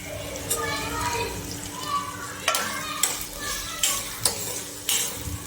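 Vegetables for veg Kolhapuri, with carrots just added, being stirred and fried in a pan, steady sizzling broken by several sharp spoon knocks against the metal, close and fairly loud, with a voice at the start.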